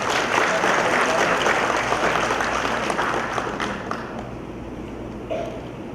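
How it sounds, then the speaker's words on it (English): Sustained applause from an audience at a police legal service anniversary ceremony fills the room, steady and dense for several seconds before easing slightly. "A warm applause"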